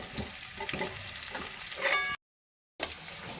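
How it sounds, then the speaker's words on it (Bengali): Potatoes frying in a pan for a chicken curry: a steady, close crackling sizzle that cuts out briefly into silence, then resumes. "এখন কিন্তু আলুটা প্রায় ভাজা ভাজা করে নিয়েছি, আরও 10 মিনিটের মতন ভেজে নেব"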